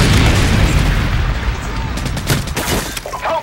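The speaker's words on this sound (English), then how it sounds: "Friendly Predator missile incoming." A Predator missile strike from Modern Warfare 2 detonates in a loud, booming blast. The rumble trails off into crackling debris and scattered gunfire.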